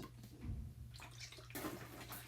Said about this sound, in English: the water comes out because I'm putting more pressure inside the bottle, which then puts pressure on that little valve, and then it leaks